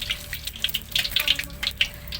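Eggs fry in hot oil in a pan while hot oil is spooned over them. Crisp sputtering pops and crackles rise and fall irregularly, close by, with no talk.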